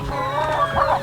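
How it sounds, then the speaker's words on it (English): A chicken clucking nearby in a short burst of several quick, throaty calls, clear and fairly loud with no talking over it. "Do you want to pet the chicken?"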